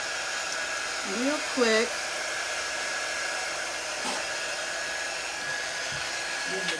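A hair dryer blows steadily and loudly, drying paste on a chalk suede journal notebook cover, with a brief spoken phrase over the constant whir.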